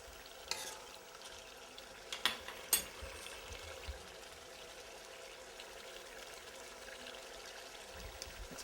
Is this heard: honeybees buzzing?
no